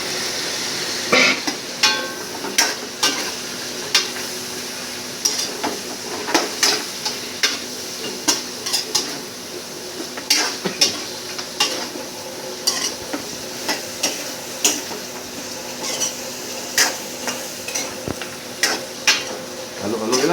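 Pork spare ribs frying and being stirred in a pan, a continuous sizzle broken by regular scraping and clattering strokes of a utensil against the pan, with little else over it.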